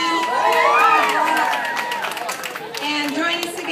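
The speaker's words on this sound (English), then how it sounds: "So give yourselves a hand." An audience applauds and cheers at regatta run awards at an outdoor community event, a sustained wash of crowd noise with whoops and children's shouts, fairly near and loud, with voices chattering through it.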